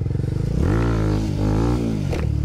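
Motorcycle engine revving hard as the rider readies a wheelie, a loud, steady drone that rises and falls in pitch over a couple of seconds, close to the microphone, with no talk.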